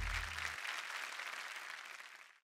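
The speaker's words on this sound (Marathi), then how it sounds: "शोभाजींसाठी जोरदार टाळ्या झाल्या पाहिजेत." Audience applause for a contestant on a Marathi TV game show, a loud steady clatter of clapping that holds for about two seconds and then stops abruptly, with a brief low musical tone at the very start.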